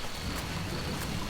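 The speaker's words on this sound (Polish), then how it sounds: "A użyję kwaśnego deszczu, niech ich trochę pomorduje" Steady, dense hiss of heavy rain from an acid rain spell in Swamp Attack, with a low rumble underneath, continuous and enveloping like a game weather effect, no voices.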